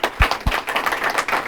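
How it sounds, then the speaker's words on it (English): An audience applauds after a presentation, a short burst of brisk, scattered clapping lasting under two seconds. "We'll give them a round of applause."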